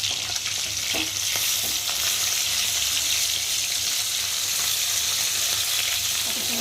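Fish frying in a pan, a loud, continuous close sizzle of hot oil holding steady throughout with faint scrapes.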